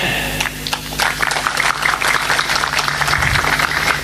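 An audience at a speech gathering applauds in a dense, continuous burst of many hands clapping, steady and fairly loud throughout.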